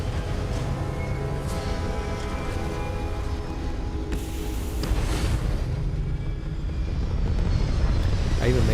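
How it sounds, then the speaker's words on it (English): Spaceship thrusters fire at lift-off in Starfield, a steady, heavy engine roar that builds louder toward the end, with a voice talking over it. "All thrusters firing."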